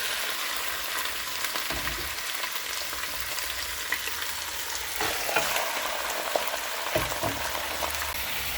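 Chicken meat frying with browned onions in a pan for chicken curry gives a steady, close sizzle throughout, with occasional soft clicks from stirring and no voices.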